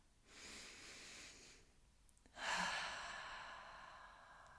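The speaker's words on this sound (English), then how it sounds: "Let's take a breath together." A slow, deep breath during guided meditation: a long soft inhale followed by a fuller, breathy exhale, close and quiet with no talking.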